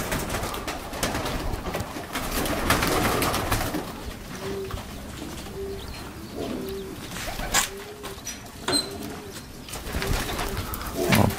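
Racing pigeons coo softly in a spacious aviary, giving repeated low rolling calls against a steady background of rustling and faint bird noise.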